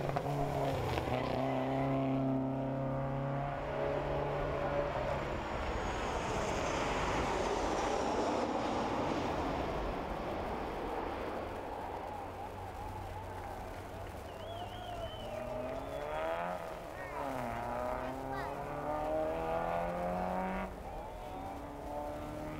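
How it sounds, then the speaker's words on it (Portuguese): Peugeot 306 rally car tearing through a Lisbon super special stage, its engine rising and falling through gear changes as it approaches, passes and pulls away, with a second surge of revs later. "Carro número 37, António Alcubia, Joaquim Serrão, Peugeot 306"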